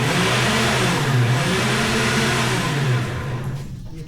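A Ford F150 truck engine idles and then revs as the truck pulls forward, a steady close engine rumble that fades slightly toward the end.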